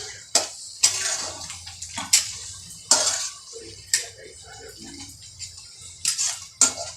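A spoon scrapes and clinks against a pan as pav bhaji mash with reddish-browned onion is stirred and sautéed, sounding as irregular close metallic knocks and scrapes with faint sizzling underneath.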